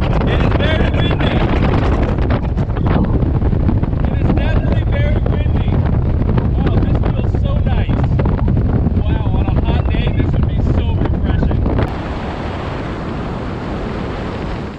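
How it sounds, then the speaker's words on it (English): Strong wind buffets the microphone inside an open-door Jeep Gladiator while driving, a continuous loud rush with a steady roar underneath; the blast eases slightly near the end. "Oh, the breeze is beautiful. It is very windy."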